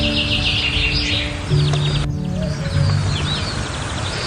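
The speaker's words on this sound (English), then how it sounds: "A lot of birds." Several wild birds chirp and trill in quick, scattered calls outdoors in Swedish countryside, moderately close over a steady rushing background of wind or water.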